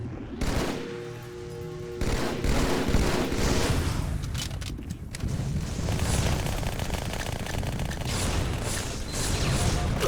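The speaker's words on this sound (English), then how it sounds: "Where am I getting shot from?" Gunfire in the video game Halo 2 on PC, bursts of rapid shots and mechanical clatter running throughout at moderate loudness, with game effects layered in.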